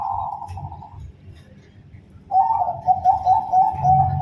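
A zebra dove (perkutut) coos close by in a steady, pulsing phrase, pauses for about a second, then resumes with a louder rolling coo.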